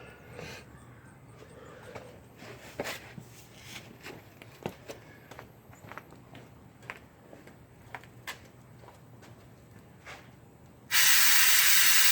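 An OEMTOOLS 24937 6.0-liter pneumatic/manual fluid extractor draws fluid out of a vehicle system with a steady low suction hiss and irregular gurgling pops, ending in a loud burst of rushing air.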